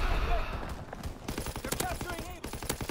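Shotgun blasts ring out in a Call of Duty: WWII match, a dense string of sharp bursts over dull gunfire under a player's spoken voice.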